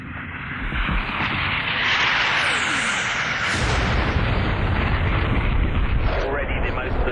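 Heavy, continuous rumbling blasts and booming explosions from a bombing attack roll over central Baghdad, loud and sustained, with a voice speaking underneath.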